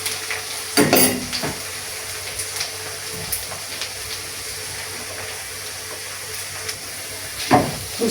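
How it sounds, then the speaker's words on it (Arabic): Onion frying in a pan for old-style Egyptian okra stew, with a steady sizzle and a few louder scraping stirs near the start and end, no voices present. "البصله نقلبها كده اول باول كده علشان ايه ما تتحرقش"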